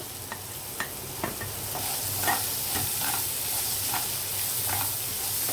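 Chopped onion pieces go into bitter gourd frying in a pan, giving a steady close sizzle broken by scraping stirs at a loose, irregular rhythm; no one talks.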